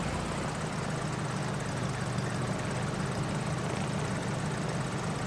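Piper PA-38 Tomahawk piston engine idling at 800 RPM in the X-Plane 11 flight simulator, a steady, even propeller drone that holds unchanged from start to finish with no talk.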